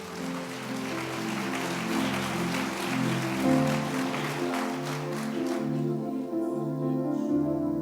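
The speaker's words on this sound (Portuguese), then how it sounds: "Aplauda Ele bem forte." A church congregation claps loudly during a worship service, a dense steady patter that runs for several seconds under sustained organ or keyboard music, then thins toward the end.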